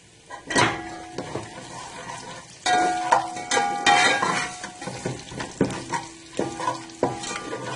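Browned ginger and garlic sizzle in a pan as coriander, chili and salt are stirred in for dhaba-style sarson ka saag, with a steady fry, repeated metal spoon scrapes and clinks against the pot, and no talking.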